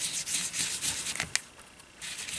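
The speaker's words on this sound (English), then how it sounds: "I just put some ink on it and just rub that all over" Ink rubbed over a crumb cake ink sponge in a card-making craft: close, brisk back-and-forth scrubbing strokes in a steady rhythm, with a brief sharp tap midway and no talk.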